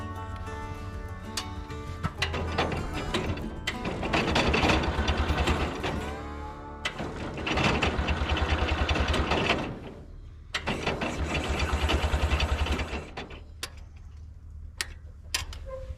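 An International Cub Lowboy 154 tractor cranking, the starter turning the engine over in three long rhythmic bursts of mechanical chugging, separated by brief pauses, close and loud, with clicks afterward.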